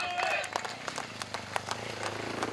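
Spectators applaud at an enduro rally stage in France, scattered clapping and crowd noise at moderate distance mixed with other activity and a brief tonal sound near the start.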